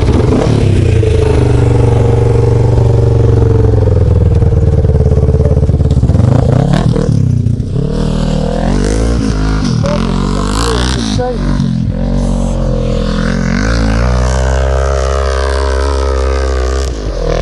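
A KTM motorcycle engine starts and runs loudly throughout, idling steadily before revving up and down in several sharp bursts, with some clatter and faint voices underneath.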